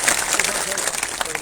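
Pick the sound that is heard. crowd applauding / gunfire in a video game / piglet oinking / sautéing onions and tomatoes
crowd applauding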